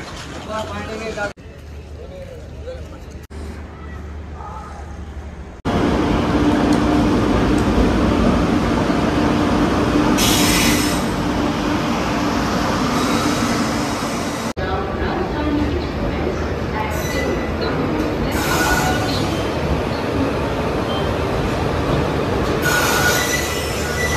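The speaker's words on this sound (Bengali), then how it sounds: "আমাদের নিউ আলিপুর থেকে শিয়ালদা যাওয়ার ট্রেন তিস্তা তোরসা এই যে ঢুকছে দেখো 3 নম্বর প্ল্যাটফর্মে।" The Teesta Torsa express train pulls into platform 3 at New Jalpaiguri station, a loud continuous rumble of wheels and cars with high metallic squeals, heavy and close, with voices in the background.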